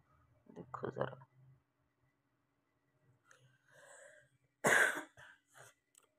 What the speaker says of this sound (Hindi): पर से गंदी वाली खांसी लगी हुई है।